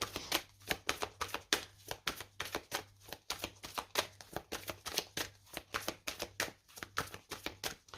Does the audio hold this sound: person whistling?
no